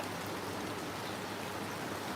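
Continuous rainfall hisses evenly on surfaces, a dense, unbroken wash of drops with no voices.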